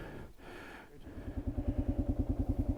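An adventure motorcycle rolls onto a corrugated dirt road in the Western Australian outback, its engine settling into a fast, steady pulsing thrum up close after a brief rushing start.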